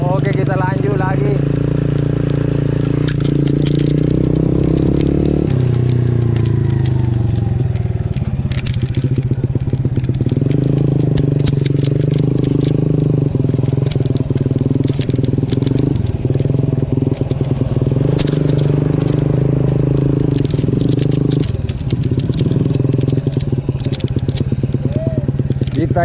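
Motorcycle used as a farm ojek in a village, engine running loud and close throughout with rising and falling revs, rattling and crunching over rough ground, with talking on top.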